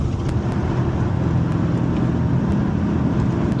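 An HSV VE Maloo R8 ute cruises along a road, giving a continuous loud drone of engine and road noise without pauses or speech.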